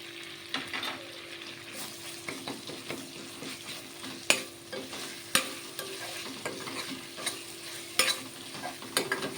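Prawns with cucumber and raw masala fry in a pan while being stirred, producing a continuous sizzle with intermittent clacks and scrapes of the spoon, close and moderately loud.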